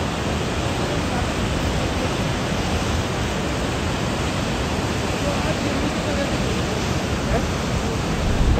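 Rushing Saraswati river water at Mana village near Badrinath, a loud, steady broadband roar of fast-flowing current that fills the whole stretch without pause, with no clear speech over it.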